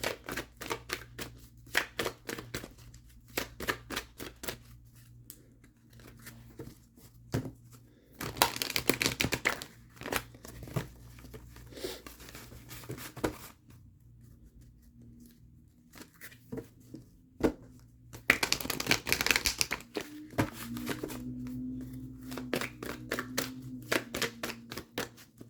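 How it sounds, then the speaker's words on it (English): Oracle cards being shuffled and pulled, with bursts of rapid papery flicking and riffling up close, separated by quieter stretches of soft card handling and light tapping. "let's pull some other oracle cards for you and get some more messages."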